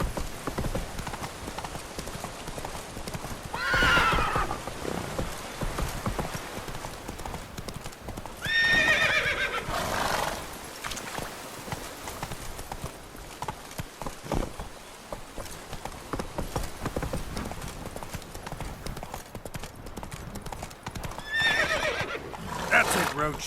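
In The Witcher 3, the horse Roach whinnies a few times over a steady clip-clop of hooves, with ambient game sound underneath and no talking.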